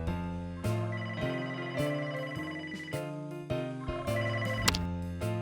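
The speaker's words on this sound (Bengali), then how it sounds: "ও ফোন সব সময় বেজেই চলেছে, বেজেই চলেছে।" A cartoon telephone rings insistently, its bright electronic bell repeating in quick, even bursts, close and clear with no talking.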